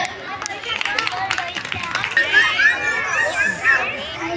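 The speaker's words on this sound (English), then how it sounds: "Let's cheer for her." A school audience at a Mahashivratri celebration cheers and claps for a small kindergarten girl about to sing, with children's chatter, scattered applause and a crowd hubbub rising and staying loud throughout.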